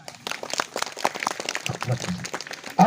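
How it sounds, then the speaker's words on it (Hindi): Guests at a Christian wedding ceremony clap in scattered, uneven bursts that sound fairly close. Voices murmur underneath, and a louder thump comes at the end. "और ताली बजाएंगे।"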